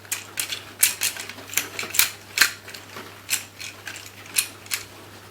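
Small coloured beads slide back and forth inside a transparent plastic puzzle, giving a rapid series of close, dry clicks and rattles in irregular bursts, with no talking.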